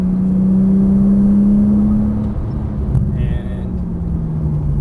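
A Porsche Turbo S engine drones loud and close on a Los Angeles race track, a steady high rumble that dips as the car shifts, with someone talking over it.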